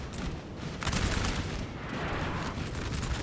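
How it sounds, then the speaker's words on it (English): Cannons firing in Napoleon Total War during a Napoleonic battle, a steady fusillade of booms and gunfire cracks blending into a loud, dense battle din with no pauses. "The guns up here still causing all sorts of chaos, just firing down on any unfortunate Brits that show themselves"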